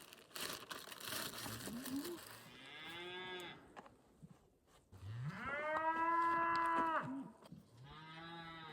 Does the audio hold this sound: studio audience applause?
no